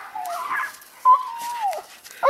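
Pomsky dogs playing in the snow give high, drawn-out whines and whimpers in several close bursts, with brief pauses between them.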